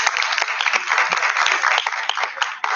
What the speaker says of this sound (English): So applause for that, please